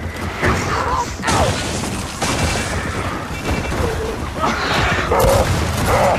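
Rapid gunfire from Gears of War 4 multiplayer on the Raven Down map: bursts of shots and heavy impacts repeating through the stretch, loud and close, with a player talking over them.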